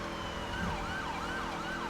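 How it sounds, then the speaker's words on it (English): Wailing police siren from a state trooper car in a video game, a steady rising-and-falling tone that sweeps up and down continuously over an engine-like background drone, loud and close throughout. "Make sure whenever you're going through intersections that you're changing your siren to alert drivers and stuff."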